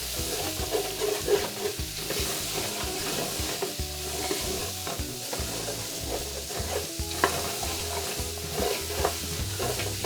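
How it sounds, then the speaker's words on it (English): Mirepoix for braised brisket is stirred in a hot pot, with a steady close sizzle broken by frequent scraping and clattering stir strokes and no voices. "we're going to add our mirepoix. This nice stir."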